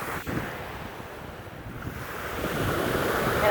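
Waves wash onto a sandy Lake Erie beach with a steady, soft rush of surf mixed with wind buffeting the microphone, building slightly louder toward the end.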